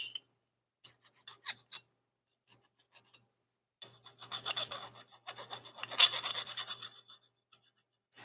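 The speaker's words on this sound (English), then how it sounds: "So I just use files, and you can really feel and hear the roughness." A metal hand file deburring a CNC-cut part gives a few faint early scrapes, then a run of quiet, rhythmic rasping strokes, close and dry, with no talking.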